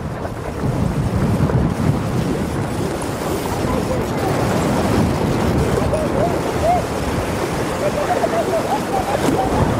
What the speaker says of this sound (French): Oh là là, rafale de vent.